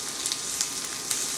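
Vegetables lightly sautéing in a hot pan at about 375 degrees, a steady soft sizzle with a few faint crackles and pops, heard alone.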